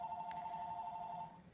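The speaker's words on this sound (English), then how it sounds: "Excuse the phone. I'm not going to answer it." A telephone rings indoors in a steady, continuous electronic tone for about a second and a half, moderately loud and fading slightly at the end, with no talking over it.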